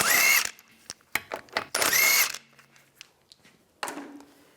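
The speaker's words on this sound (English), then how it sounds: "Take the lug bolts out." A power tool whirs in several short bursts with gaps between them, taking the lug bolts off a Volkswagen Beetle wheel, close up and alone.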